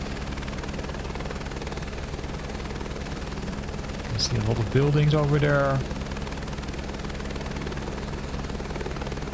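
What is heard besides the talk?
H125 helicopter flying in video game MSFS 2024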